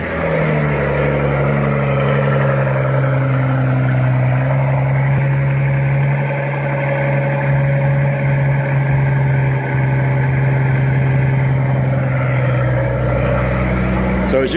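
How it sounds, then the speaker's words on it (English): Car engine on a cold start with mufflers fitted, a loud steady low idle rumble that holds throughout, with someone talking over it. "So I'm going to show you guys a cold start now with mufflers."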